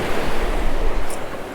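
Ocean waves break on a beach used for surf fishing, giving a loud, close, continuous roar and wash of surf mixed with wind buffeting.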